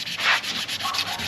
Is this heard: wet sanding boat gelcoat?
yes